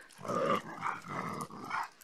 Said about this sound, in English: All these dogs following her.